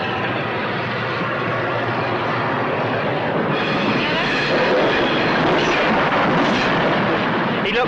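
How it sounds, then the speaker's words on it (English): A train rolling past in an old silent film soundtrack, a dense continuous rumble and clatter that grows slightly louder and brighter midway, steady throughout with no talking. "He looked and watched the train go by like that."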